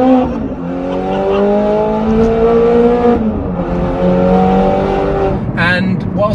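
A Nissan GT-R R35 engine revs and holds its pitch, then dips and climbs again, close and loud with a short sharp rise near the end; speech can be heard mixed in.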